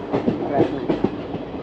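A train rolls along a railway track beside a station and school road, with rhythmic, fairly close clattering bursts over a continuous rumble.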